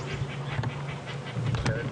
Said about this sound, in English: some very, very angry birds